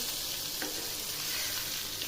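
Eggplant slices fry in a pan with a soft, steady sizzle and crackle close by. A single short scrape marks a slice being turned.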